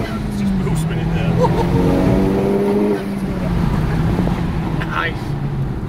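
A Mazda car accelerates hard with its wheels spinning, the loud engine note rising in a steady climb and dipping briefly before pulling again, with a voice talking over it.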